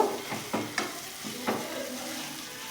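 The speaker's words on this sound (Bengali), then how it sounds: "সেই আলু মাখাটা দিয়ে দিলাম এটাকে খুব ভালো করে আমি একটু আদার সাথে মিশিয়ে নেব" Mashed potato being stirred with ginger in a pan for raw mango chops, a low sizzle with several soft scraping strokes early on, then a quieter steady fry.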